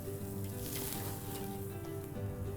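Steaks sizzle on a hot grill fire just after being turned over, a steady broad hiss and crackle running unbroken and fairly loud throughout, with a low hum underneath and no talking.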